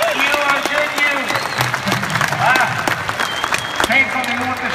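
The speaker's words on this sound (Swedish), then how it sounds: "Kan vi ge oss och er själva en riktigt stor och rungande applåd?" At Tierp Arena a large audience keeps up loud, rolling applause with cheers and whistles mixed in, and a voice rings out above the clapping throughout.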